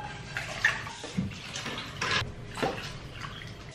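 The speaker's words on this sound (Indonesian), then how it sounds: "Terakhir tambahin air secukupnya sampai dagingnya tenggelam semua." Water poured into a cooking pot over meat with ground spice paste, a running splashing pour with uneven gurgles, close and moderately quiet, with no talk.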